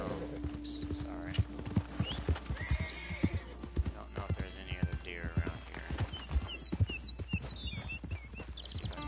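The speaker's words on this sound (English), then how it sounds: "You can hear the other horses running around behind you." Horses in Red Dead Redemption 2 clip-clop at a run, with close, uneven hoofbeats throughout, a whinny early on and other horses moving nearby.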